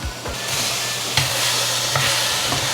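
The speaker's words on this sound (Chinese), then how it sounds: "給它快速翻炒一下" Tomato and zucchini stir-fried in a pan give off a steady close sizzle and hiss, with a few clinks and scrapes of the spatula as the vegetables are tossed.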